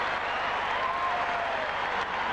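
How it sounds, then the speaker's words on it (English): A basketball crowd at the Forum applauds and cheers during a 1984 NBA Finals game between the Lakers and Celtics, a steady wash of clapping and roar from a packed arena. "the crowd loves it here at the Forum"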